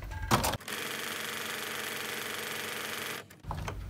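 A sewing machine stitches fabric for a project bag in one continuous, even whirring run of about three seconds. Short clicks and handling noises come before and after it.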